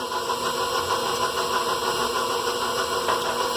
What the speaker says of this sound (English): I'm going to start my mixer on low now so that we can get the egg beat